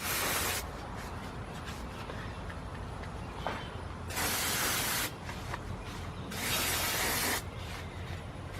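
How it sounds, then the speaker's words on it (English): Carburetor cleaner sprays from an aerosol can onto engine parts of a 2003 Nissan Maxima GLE 3.5 during a rebuild, in loud steady hissing bursts, three longer blasts standing out over a constant close spray noise, with no talk. "Some carburetor cleaner."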